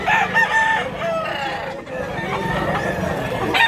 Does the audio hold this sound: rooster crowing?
yes